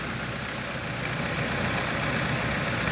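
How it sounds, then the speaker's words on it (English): A 2012 Jeep Patriot engine idles with a steady, even rumble, close and constant, no other sounds standing out. "with the motor running"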